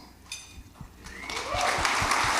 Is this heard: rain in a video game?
no